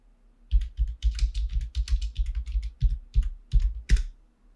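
Someone types a terminal command on a computer keyboard to run a Bun JS file on a server, producing a quick, close run of crisp key clicks in irregular bursts over several seconds, with a few heavier keystrokes near the end and no talking.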